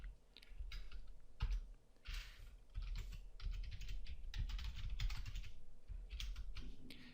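Fingers type CSS code on a computer keyboard in quick, irregular bursts of close, crisp key clicks, with brief pauses between runs and no talking.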